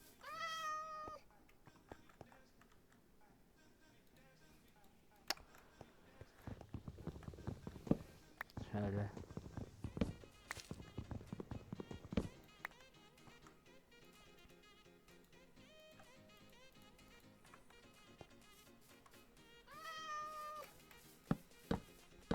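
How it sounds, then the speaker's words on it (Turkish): Cats in a Minecraft-style video game meow several times, with a burst near the start and another near the end, between clattering footsteps and game noises, while a person talks in Turkish. "Kedicikler."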